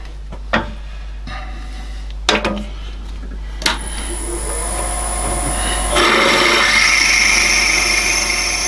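After a few scattered knocks and clicks, a power drill with a 6.5mm bit spins up and whirs continuously, its tone growing louder and harsher as it bites into a cheese knife handle for the tang.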